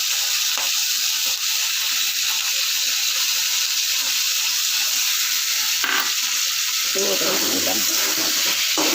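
Chili and cumin paste sizzling steadily in a pan of fish curry, a loud continuous frying hiss close up with occasional stirring scrapes and no one speaking.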